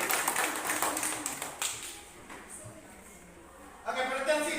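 Pupils in a classroom clap briefly after group scores are read out, a scattered burst of hands that fades into quiet room noise, then rises again at the end with voices talking.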